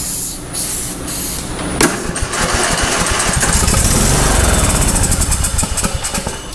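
Starter fluid sprayed into the intake of a free used lawn mower engine with the choke on, a hissing aerosol burst followed by a loud, rough rumbling buzz, no talk.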